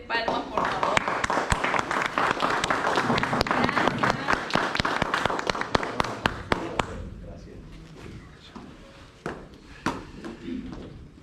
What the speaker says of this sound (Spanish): Vamos a recibirlo con fuertes palmas, por favor.